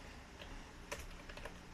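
Quiet typing on a computer keyboard sits close to a microphone, with scattered soft key taps and a short cluster of sharper clicks near the middle, and no voices.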